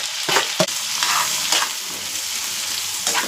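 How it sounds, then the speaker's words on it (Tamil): Chopped capsicum and two onions frying in a pan, a steady bright sizzle broken by a few scraping stirs, with no one speaking. "இப்போ போட்டு நல்லா அது நல்லா வதங்கி வரட்டும்."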